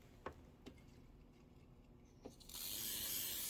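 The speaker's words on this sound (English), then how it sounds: "Little shot of spray." A few faint ticking clicks, then a sudden steady hiss of spray that continues to the end, fairly quiet overall.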